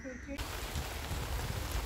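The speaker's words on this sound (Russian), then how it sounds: "Опять дождь пришел." Rain comes down as a steady outdoor shower, a broad continuous hiss of falling drops that starts abruptly and then holds fairly even, fairly faint and close.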